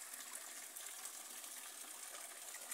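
Floodwater rushes through an alley during heavy rain in El Salvador, a steady, even roar of gushing water that fills the short clip without voices.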